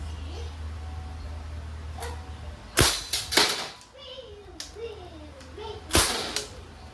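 A Crosman SBR DPMS FDE Edition airgun rifle fires in semi-auto, giving several sharp, separate cracks spaced irregularly over a few seconds. A person talks briefly between the shots.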